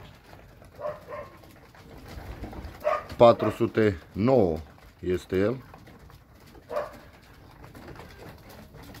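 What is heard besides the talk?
pigeons cooing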